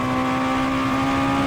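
A race car engine in Need for Speed Most Wanted holds a steady, loud high-revving drone at speed, sustained and alone, with no talking.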